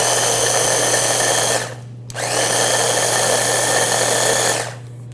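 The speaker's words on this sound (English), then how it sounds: "So I'm just going to grind this for a second to make it into a flour." An electric kitchen appliance grinds rolled oats into flour in two loud, high whirring bursts separated by a brief pause, each with a steady motor drone and a sharp stop.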